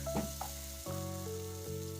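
Peanut sambal with shrimp paste and tamarind water is stirred in a pan, giving a soft, steady sizzle with a couple of brief scraping knocks at the start.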